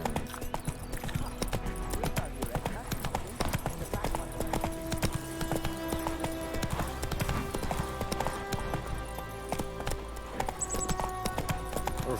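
Horse hooves clip-clopping at a steady gallop in The Witcher 3, a fast even rhythm that runs throughout under a game music bed, moderately loud and close.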